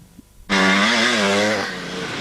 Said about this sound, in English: Frank Tokars on the Husky 360